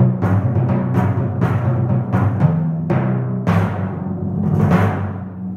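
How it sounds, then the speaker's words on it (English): Timpani struck in a school music service demonstration, with a series of resonant booming hits at an uneven rhythm, each ringing low and decaying as the next overlaps, loud and close. "This is how they sound. These are the timpanis."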